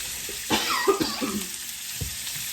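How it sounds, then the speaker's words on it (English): Diced steak sizzles in a hot pan as it is broken up, a steady close frying hiss with a few scraping stirs and a brief throat-clearing sound. "I'm gonna start adding in my steak strips. Kind of breaking it up as I go."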